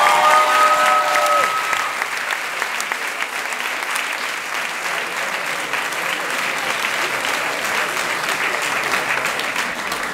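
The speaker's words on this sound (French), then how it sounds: "On va applaudir Nicolas, il est là" Audience at an improv comedy show in Paris applauding loudly and steadily for the whole stretch, a dense wash of clapping with a brief high whistle near the start.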